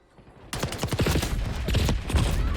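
Video game gunfire bursting in after a brief quiet, a dense run of rapid shots that stays loud and close to the end.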